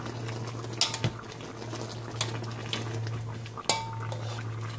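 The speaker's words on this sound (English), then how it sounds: "And let's mix it again." Utensil clinks and scrapes in a pan while paksiw na pompano is stirred with rice wine vinegar, a few sharp knocks against the metal over a steady low hum, no talking.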